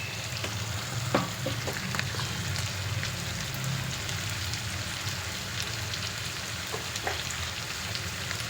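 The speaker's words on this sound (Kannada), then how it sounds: "ಈರುಳ್ಳಿ ಈ ಕಡೆ ಬೇಯ್ತಾ ಇರಲಿ ಫ್ರೆಂಡ್ಸ್." Onions frying in a pan on a home kitchen stove, a steady close crackling sizzle with occasional sharper pops and stirring clicks, no talking over it.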